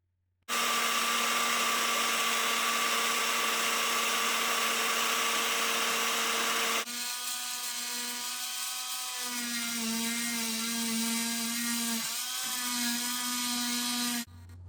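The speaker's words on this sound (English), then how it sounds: "I'll quickly burnish the surfaces for good contact" A handheld rotary tool whines steadily and loudly while burnishing the motor contacts of a model train being converted to DCC; the pitch drops and wavers partway through as the tool bears on the metal, then the whine cuts off abruptly.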